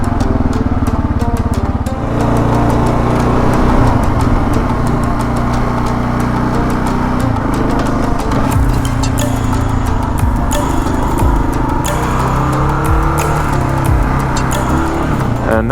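Kawasaki KLR 650 motorcycle ridden off-road, its single-cylinder engine droning steadily and loud throughout with shifting revs and wind rush, close to the rider, no talking.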